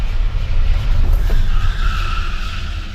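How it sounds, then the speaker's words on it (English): A 2023 Volkswagen ID.4 braking hard from inside the cabin, its tires skidding and squealing in a loud, steady rush of road noise lasting a few seconds, with no talking. "Wow, it got godlike braking too."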